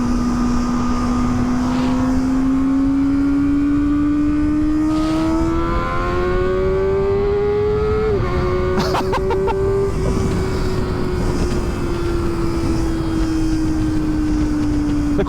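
A 2023 Kawasaki ZX-4RR KRT with an ECU flash howls at high revs, pitch climbing steadily through the gears with a brief shift dip, loud and continuous over heavy wind rush.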